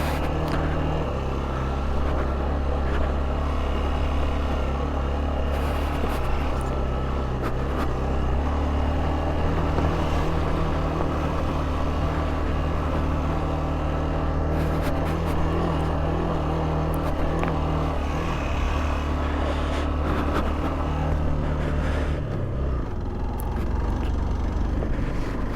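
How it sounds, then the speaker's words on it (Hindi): A Hero XPulse 200 motorcycle climbs a mountain road in second gear. Its engine drones steadily and close for the whole stretch, with a brief drop in revs near the end and no talking. "सेकेंड गियर में डाल दी मैंने अब बाइक।"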